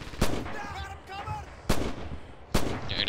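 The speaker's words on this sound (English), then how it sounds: "they're shooting at me" Three loud, sharp rifle shots in the WWII shooter Red Orchestra 2 on the snowy Winterwald map, widely spaced and close. Someone talks briefly between the first two shots.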